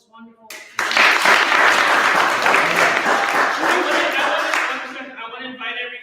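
An audience at a fungi educational symposium breaks into sustained, dense applause after a brief spoken moment, the clapping staying strong for about four seconds before thinning out.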